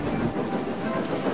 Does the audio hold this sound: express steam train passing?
yes